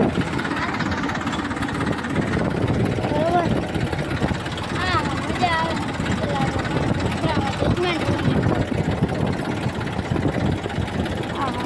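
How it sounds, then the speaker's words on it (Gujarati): A tractor engine idles with a steady low chugging drone, close and loud, while people talk over it. "મિત્રો જો આપણે ટ્રેક્ટર રાખીએ છીએ"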